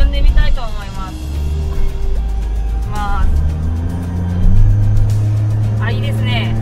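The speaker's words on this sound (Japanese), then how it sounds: "今バイパスの方乗ったのでちょっと踏んでみたいと思います。" A car in power mode accelerates hard on a bypass road, its engine droning loud and steady near the microphone with a rising surge partway through, while a person talks over it.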